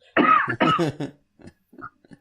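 A close, raspy smoker's cough breaks out in two harsh bursts, then trails off into a few faint throat-clearing sounds.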